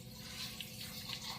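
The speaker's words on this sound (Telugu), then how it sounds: "ఇప్పుడు మనం కొన్ని వాటర్ పోసుకొని" Water poured into a cooking pot in a home kitchen, a faint steady trickle and splash running briefly and alone.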